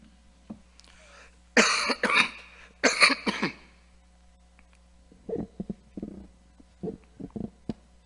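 Several harsh, loud coughs come in two bursts, followed by a string of shorter, quieter coughs and throat sounds, close up with no talking.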